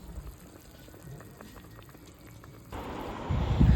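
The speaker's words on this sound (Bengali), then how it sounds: "তো দেখো ঝোল ফুটছে" Broth with lentil fritters bubbles in a pot on the stove, quiet at first, then rising into a louder, steady boil near the end.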